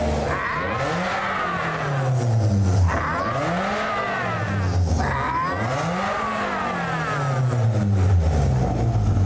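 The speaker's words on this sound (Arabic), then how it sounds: "ومحرك سيارتهم الفائقة الأولى يهدر" Rebuilt supercar engine roaring loudly through repeated rev cycles, pitch sweeping up and down in several rising and falling waves, up close and steady with no talk.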